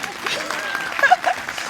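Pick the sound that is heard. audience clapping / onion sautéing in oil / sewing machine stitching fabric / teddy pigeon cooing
audience clapping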